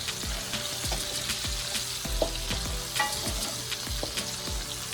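Chopped garlic and green onion sizzle in a hot pan for spicy garlic shrimp, a steady loud frying hiss broken by repeated sharp taps and scrapes of a utensil stirring against the pan.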